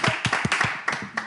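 A few scattered handclaps from a small group, loose and uneven, about six or seven distinct claps in quick succession at moderate distance.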